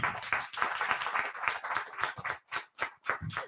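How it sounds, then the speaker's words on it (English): Applause from an audience at a literature talk, dense sustained clapping that breaks into rhythmic bursts toward the end, loud and close. "So we want to have another huge round of applause for sir."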